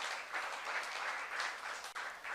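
A church congregation claps together during a Korean sermon, a dense steady patter of many hands with no break in it.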